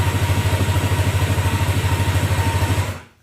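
A Yamaha jet ski engine idles close by in a steady, pulsing low rumble with a rhythmic clatter, then cuts out abruptly near the end.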